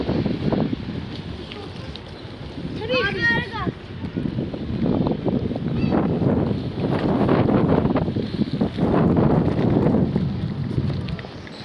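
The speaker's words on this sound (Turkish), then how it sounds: "Rüzgar yoğunlaştı burada." Strong wind in an olive grove buffets and roars against the microphone in heavy gusts, with muffled voices and a brief high-pitched call partway through.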